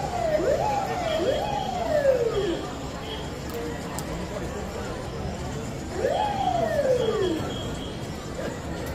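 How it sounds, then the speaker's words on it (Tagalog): A police car siren wails on a street in South Korea, two sweeping rising-and-falling cycles at moderate distance over a busy crowd murmur and street noise. "Nagwangwang ng pulis."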